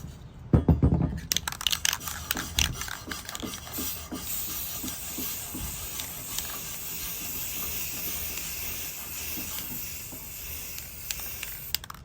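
Steady hissing spray of an aerosol can running for several seconds, preceded by a few sharp rattles and knocks, close and fairly loud.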